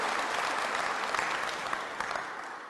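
A graduation audience at a school ceremony applauds a speaker in a dense, steady wash of many hands clapping, moderately loud and sustained for a few seconds.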